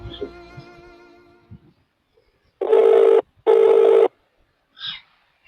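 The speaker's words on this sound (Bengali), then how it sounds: "দেখি আর একটা বার ফোন করে দেখি যদি ফোনটা তোলে।" A telephone call rings out through the handset, giving two long, even ringback tones separated by a short gap. A few quiet, indistinct sounds come before and after them.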